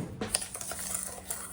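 Metal spoon clinking against dishes in a kitchen while measuring sugar and pectin for blueberry jam: several light, bright taps and scrapes over about a second and a half, close and fairly quiet, with no talking.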